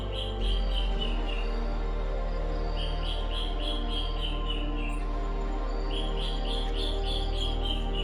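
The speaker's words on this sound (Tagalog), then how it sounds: "hindi na tumigil yung ibon, ayaw niya tumigil." A bird calls repeatedly at a campsite in Indang, Cavite, its short high chirps coming in clustered bursts over a constant low hum and steady insect drone.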